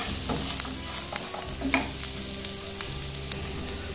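White sauce penne pasta stirred in a pan with pepper and salt, giving soft scraping and sizzling with small clicks of the spoon, steady and close, with no voices.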